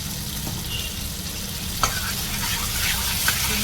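Ginger garlic paste fries in oil in a pan, giving a steady hissing sizzle with a couple of sharp utensil clinks from stirring, close and continuous.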